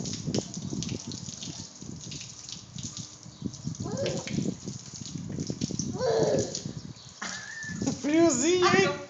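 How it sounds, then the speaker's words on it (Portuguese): Water gushes and splashes from a garden hose sprayed onto a small child playing outdoors, a steady wash under frequent talk and a child's excited squeals near the end. "olha ele tá jogando água"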